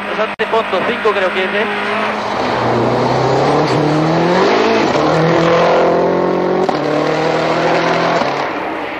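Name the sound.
rally car engine running on three cylinders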